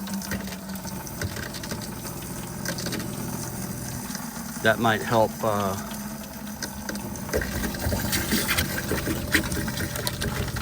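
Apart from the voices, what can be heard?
hot water tap running into a bucket in a camper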